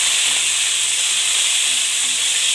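Curry leaves and green chillies fry in hot oil, making a loud, even, unbroken hiss and sizzle close by.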